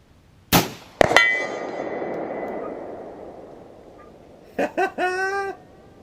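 At 200 yards, a 12 gauge shotgun fires Foster rifled slugs at a steel gong, two sharp cracks with a ringing metallic clang that fades slowly, followed by a few short squawking bird-like calls.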